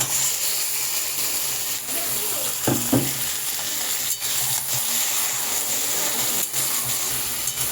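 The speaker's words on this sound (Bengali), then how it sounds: "পেঁয়াজটা লাল হয়ে গেছে, এইবার আমি এই মাছগুলোকে তেলের মধ্যে দিয়ে দেব।" Fish frying in hot oil with browned onions for Bengali lotte fish chorchori, a steady close sizzle with a few brief clinks and stirring sounds.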